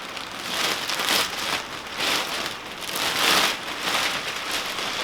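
Steady rain patters around a porch, a soft continuous hiss that swells and eases in gentle waves, with no voices.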